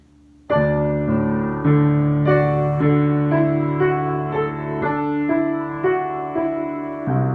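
Piano notes and chords of the hymn Be Thou My Vision played slowly and steadily, each ringing out in turn, close and fairly loud with no voices.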